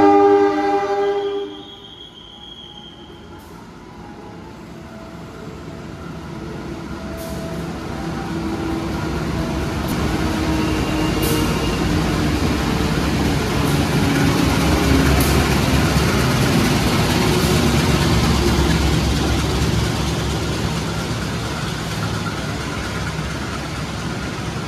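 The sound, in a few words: passenger train running with horn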